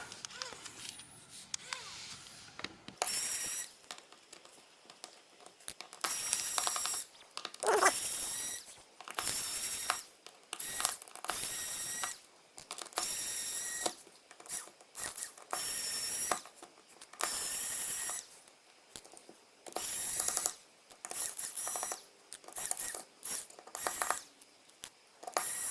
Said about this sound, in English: Then we grab our handy dandy screwdriver